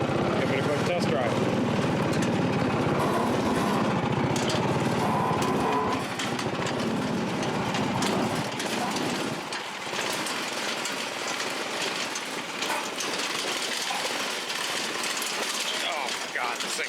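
A Yerf Dog 3203 go-kart engine runs steadily through a test drive out back, a loud continuous small-engine drone with rattling and wind noise, fading somewhat partway through.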